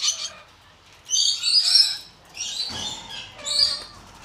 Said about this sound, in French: on va essayer d'appeler les petits oiseaux